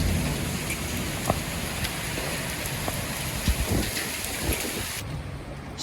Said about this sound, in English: in just a few moments full terror of thunderstorms